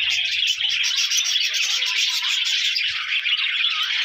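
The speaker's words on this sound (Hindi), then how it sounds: "जो हमारे बजरी के चिक्स हैं ये देखें सारे एक साथ" A cage of budgerigar chicks chirps in a dense, continuous, high-pitched chorus, close and loud throughout, with no talking.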